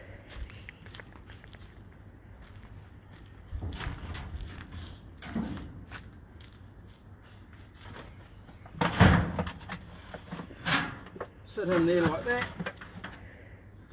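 A smoker door bangs and slides shut amid clattering handling noises and footsteps at a cooking setup, with a few sharp knocks standing out over faint background and a person speaking briefly.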